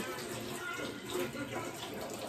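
Faint, steady rush of water running from a home filter tap while bottles are filled, a continuous hiss with slight swells and no clear talking.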